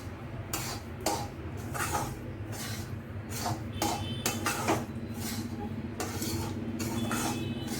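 Semolina (rava) roasting in a pan on the stove, with repeated scraping and clinking of a utensil against the metal in an irregular rhythm over a steady low hum, fairly quiet and close.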